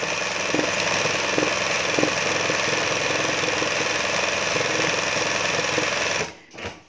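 A sewing machine runs continuously at a steady speed while embroidering a flower design, a close, loud, even mechanical whir and rattle that stops abruptly near the end, with no talk.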